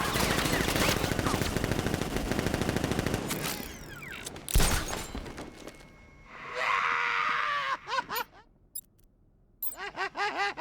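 Heavy automatic gunfire from a militia ambush in Batman Arkham Knight, a dense rapid barrage for several seconds that breaks off into scattered shots, impacts and debris, with voices shouting over it.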